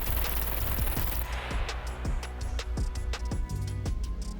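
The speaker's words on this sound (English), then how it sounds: "Let's just reload the Mac 10. Let's just double check we are in automatic. We are in automatic. Let's fire away." Mac 10 firing 9mm on full automatic in the video game SCUM, a rapid run of bursts and shots with dense crackling reports, heard at a moderate distance under game ambience.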